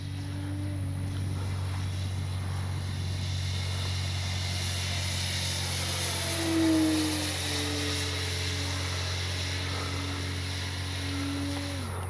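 An E-flite SNJ-5 Texan RC airplane flies on its maiden outing, its electric motor giving a steady distant drone that rises and falls slightly in pitch as it passes over an open field.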